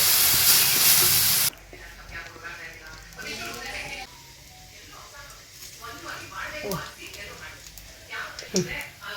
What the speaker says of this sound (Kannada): ಈಗ ನೆಕ್ಸ್ಟ್ ಒಗ್ಗರಣೆ ಹಾಕೊಳ್ಳೋದು